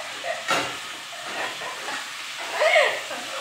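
Chicken frying in hot oil, a close, steady sizzle and hiss with brief louder spattering bursts, no voices over it.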